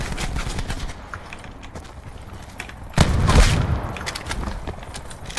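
Shotgun fire in Call of Duty: Black Ops 4 Blackout, a sharp loud blast at mid-clip amid scattered lighter shots and clattering game noise throughout.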